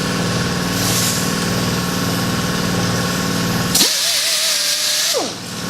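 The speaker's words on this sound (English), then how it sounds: "So this is the final buffing." A polisher buffs car paint during the final waxing stage of a restoration, a loud steady mechanical whine and hum that drops to a higher tone near the end before winding down.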